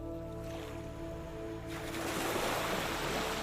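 Calm ocean waves wash in with a soft, broad hiss that rises and fills the scene halfway through, over a gentle sustained musical tone.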